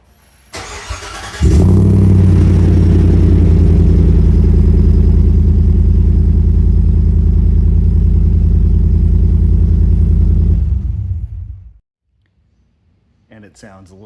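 A 2024 Chevrolet Silverado 2500HD pickup with a deep, rumbling aftermarket exhaust starts up, idles loudly and steadily for several seconds, then shuts off into quiet.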